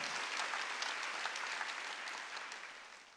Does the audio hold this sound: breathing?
no